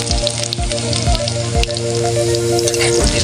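Garlic sautéing in a hot pan for a rustic outdoor meal, a bright steady sizzle with a constant low hum and soft recurring thumps beneath it, no talk.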